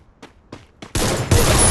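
Gunfire from the battle royale game Free Fire: three short separated shots, then a loud sustained burst of rapid fire that swells even louder near the end, with no voices.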